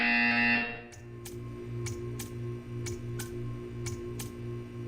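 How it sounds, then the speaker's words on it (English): A Portal 2 test-chamber buzzer cuts in after a held electronic tone stops, then sounds as a row of short, evenly spaced sharp pulses over a low mechanical hum, clear and moderately loud. "You will hear a buzzer"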